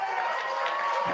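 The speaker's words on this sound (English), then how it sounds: "Oh, the crowd like that." Crowd applauding Javier Milei's speech, a dense, steady wash of clapping and cheering from a large audience, evenly loud and sustained without a break.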